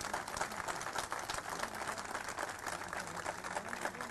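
A crowd at a public ceremony in Hisar honouring the Chief Minister claps steadily, a dense, continuous wash of applause from many hands.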